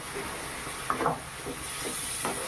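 Water poured into a pan of cooking potato and ridge gourd brings a faint, hissing sizzle with a few soft spluttering bursts, quiet and close, without speech.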